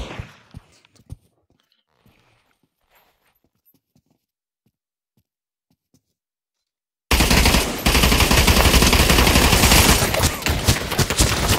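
Dense, loud automatic gunfire from a Pavlov VR zombie match erupts abruptly after a quiet stretch of faint clicks and taps, then keeps roaring without a break to the end.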